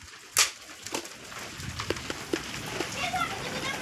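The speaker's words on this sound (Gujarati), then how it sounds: "અને હજી કરા પડે હેરા" Hailstones falling during a rain shower in Chaladar, Bhabhar, Banaskantha make scattered close taps and thuds, one sharp hit early and others irregular, under a steady patter of rain.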